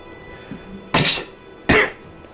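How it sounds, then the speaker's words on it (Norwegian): Two sharp, close bursts, a cough-sneeze followed by a second similar explosive burst, each lasting about a third of a second over a quiet background. "Hostenys."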